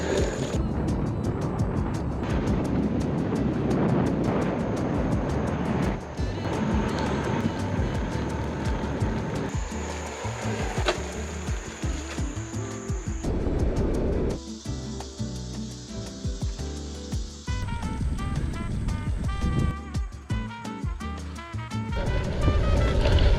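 A Trimm One Lite smart bike trainer simulates riding over cobbles with a continuous rumbling mechanical drone whose rough texture shifts and stutters, held at steady moderate loudness for over twenty seconds.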